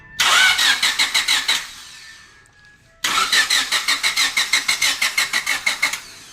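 A Honda Civic with an idle air control valve fault being started: the starter cranks in rapid rhythmic pulses for over a second, pauses, then cranks again in a longer run of pulses, close and fairly loud.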